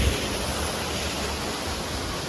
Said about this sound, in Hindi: ये माइक्रो झरना है